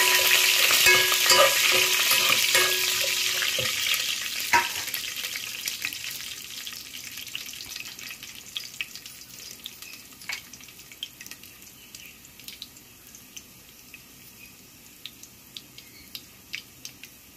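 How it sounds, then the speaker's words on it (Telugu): Tempering spices, garlic, curry leaves and asafoetida sizzle and crackle in hot oil, loud at first and slowly settling into a quieter hiss with scattered sharp pops. "ఆయిల్ హీట్ ఎక్కిన తర్వాత వెల్లుల్లిపాయలు, పోపు దినుసులు అన్నీ వేసుకొని"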